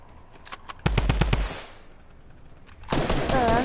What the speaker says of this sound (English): I actually hit a shotgun shot